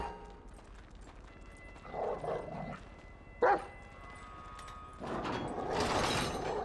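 A dog barks in short yapping bursts in Grand Theft Auto V, with running and scuffling, and a louder flurry of barks near the end.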